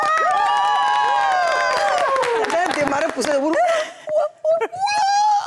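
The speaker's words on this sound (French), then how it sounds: "oui, on peut applaudir déjà." A studio audience cheers and applauds loudly with whoops and shouts mixed in, fading into scattered claps as voices come through.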